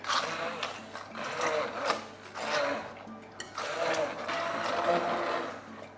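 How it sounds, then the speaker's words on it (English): A food processor whirs close by in several short pulsing bursts, blending grilled tomato and red pepper soup, its motor rising and dropping between pulses. "A food processor is the thing I was thinking of"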